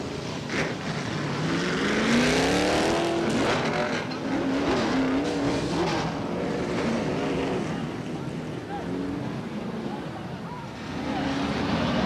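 Race cars roar down the front straightaway of a short speedway during a 1994 race, engines swelling and fading as the pack passes, with a commentator talking over the noise throughout.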